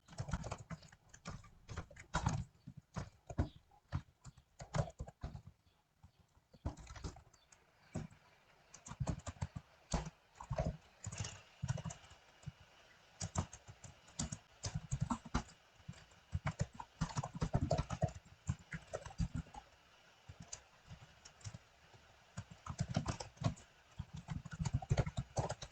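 Typing on a computer keyboard while writing a Java program in Notepad, irregular quick bursts of close, fairly quiet key clicks with short pauses throughout.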